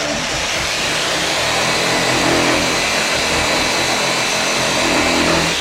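A rasp sander combo tool gouging old paint off a surface, giving a loud, continuous, coarse abrasive rasping roar that holds steady without pause.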